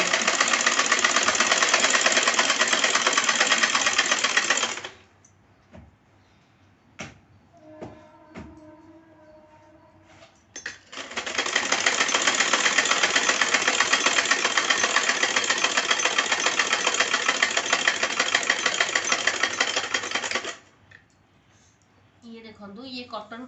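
A sewing machine stitches the round cup part of a cotton blouse, humming in two long, steady, loud runs separated by a pause filled with light clicks and handling.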